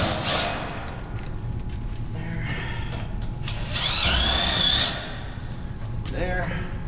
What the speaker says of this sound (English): I need to come and screw these all off.